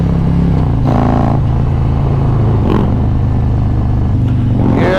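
A 2020 Harley-Davidson Road Glide Special 114 rumbles close and loud as its throttle is revved. The deep engine note rises and falls steadily through the whole run, under a wash of wind noise.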